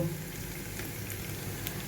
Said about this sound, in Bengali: হালকা করে পনিরগুলো ভেজে নেব